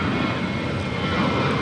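United Airlines Boeing 737-800 jet taking off from runway 25 right at LAX, bound for Las Vegas; a steady, loud broadband engine roar holds throughout the short stretch with no talk over it.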